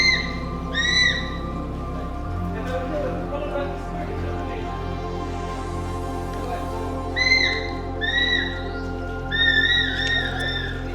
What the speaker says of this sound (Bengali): এখানে কিন্তু এক বিশেষ অতিথি পাখির দারুণ ডাক শোনা যাচ্ছে